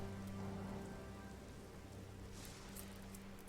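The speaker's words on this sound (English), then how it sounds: "Until the rain begins to fall." Steady rain falling as a storm sound effect, a soft continuous hiss of drops on a surface with a low rumbling bed underneath, fairly faint and even.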